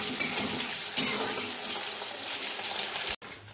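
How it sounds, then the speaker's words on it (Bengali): Potatoes frying in a pan, a dense loud sizzle with a few sharp spatters and clinks, cut off abruptly near the end. "এবার হচ্ছে এখানে আলুগুলোকে ভেজে নেব ভালো করে"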